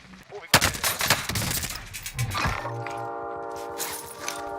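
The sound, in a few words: gunfire in a video game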